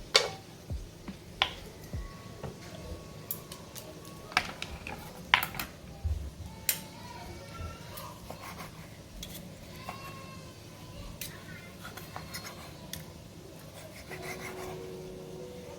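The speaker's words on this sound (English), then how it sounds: "we are all done chopping up the beef" A knife chops rested, cooked beef into bits on a cutting board in a home kitchen: irregular, fairly quiet knocks and scrapes with pauses between strokes.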